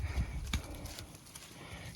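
Friendly farm cows move about close by, their hooves clopping on the ground. A few heavy clops come first, then softer shuffling and thudding against steady background noise.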